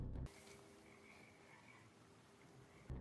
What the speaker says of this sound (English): You know those frog sounds at the beginning of the demo?